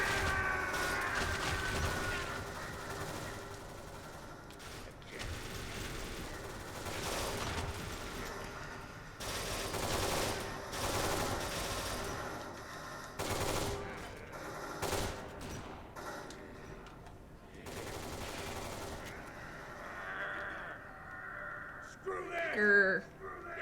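Allied gunfire in the shooter game Kane & Lynch 2 crackles in dense bursts and volleys across a noisy battle bed, with the shots blending into a continuous din rather than standing apart.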